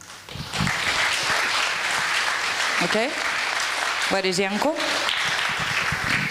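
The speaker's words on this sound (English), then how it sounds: "applause" Audience applause at a startup pitch competition, continuous clapping throughout while a host speaks over it with brief questions.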